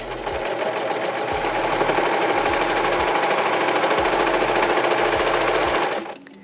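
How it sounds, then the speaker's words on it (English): A serger set to three-thread wide with a short stitch length, sewing and trimming a fabric edge for a scrunchie, runs as a loud, steady mechanical whir with a regular thumping pulse, then stops abruptly near the end. "we're just going to run that edge along the blade to where it just nicks little"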